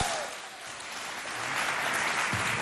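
A school quiz competition crowd claps for a team, a dense sustained burst of applause that swells toward the end, with scattered voices calling out beneath it.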